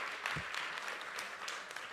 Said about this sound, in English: I guess I didn't walk out quite fast enough to get to that applause there